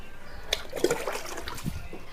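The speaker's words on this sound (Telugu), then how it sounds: "వాటర్ కిందకంటా వెళ్ళేటట్టు నీళ్ళైతే వేసేద్దాము" Water splashes and trickles onto soil and leaves of potted roses on a terrace, an uneven pour with soft spattering throughout.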